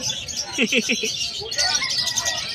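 Lutino parakeets and finches chirp in quick bright bursts among the cages of a busy Malabon pet market, a cluster of close tweets over a babble of background voices.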